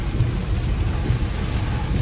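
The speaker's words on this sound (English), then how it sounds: "the storm is continuing to pick up" Hurricane Milton storm noise: heavy rain and wind roar as a steady, loud, dense wash with low rumbling gusts throughout, no voices.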